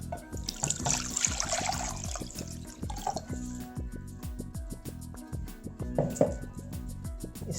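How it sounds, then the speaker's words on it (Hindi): Water running steadily into a cooking pan at home for Kashmiri green tea, a continuous trickle and splash with faint rhythmic background tapping, close and fairly quiet. "सबसे पहले 700 ml पानी डालेंगे पैन में"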